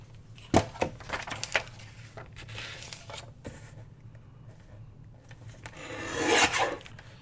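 Scissors trim a printed book page into a postcard, giving a few brief close rasping snips and rubs of paper, with a louder scraping burst near the end.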